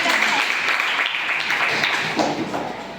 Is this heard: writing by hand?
no